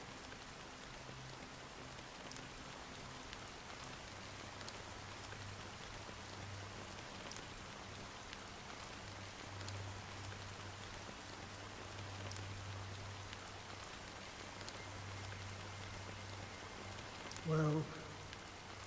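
Steady rain falls in the video game Honkai: Star Rail, a constant soft hiss of drops running throughout under a low drone, with a brief louder blip near the end.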